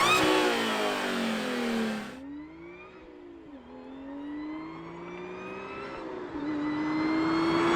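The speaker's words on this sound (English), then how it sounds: "Supercharger whine sounds good." Audi S5 with a new carbon intake revving, a loud rev that cuts off sharply, then a rising supercharger whine climbing steadily in pitch over a lower engine note, close and continuous.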